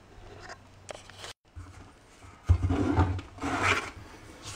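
A trowel skims polymer-modified thinset over a patched wall being prepared for a glass mosaic tile backsplash, making close, rasping scrapes in uneven strokes, with a brief pause before louder, longer passes.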